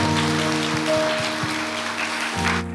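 A church congregation applauds during a Korean worship service, steady clapping over sustained organ or keyboard chords, with a swell near the end before it cuts off.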